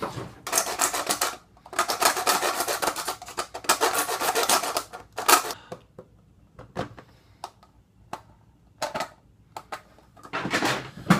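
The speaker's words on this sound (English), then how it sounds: "Now you can take some sandpaper and kind of loosely sand it there and make sure it works." Sandpaper rasps against a cheap knockoff plastic 12-shot magazine clip in short bursts of rough back-and-forth rubbing, broken by brief pauses and light handling clicks, close and alone.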